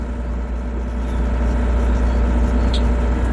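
A GroundHog BH70D tracked machine driving in reverse, a steady close engine drone with low rumbling throughout, no voices.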